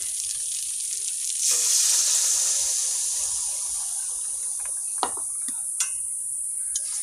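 Water poured into a hot pan of pointed gourd curry, a loud hissing burst of steam that swells then settles into a steady sizzle, followed by a few sharp clinks and stirring sounds close by.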